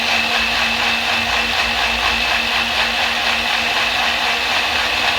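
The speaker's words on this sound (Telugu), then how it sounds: "మెత్తగా అయ్యేంత వరకు ఒక 3 మినిట్స్ మిక్సీ పట్టించాలి" Mixer grinder blending watermelon with sugar for a mojito: a continuous, loud motorized whir with a steady hum, unbroken for the whole stretch.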